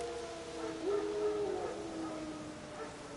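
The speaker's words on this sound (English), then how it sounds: "Wild dogs." Wild dogs howling in The Witcher 3 open-world game: faint, drawn-out distant howls with wavering pitch over quiet outdoor ambience, no talk.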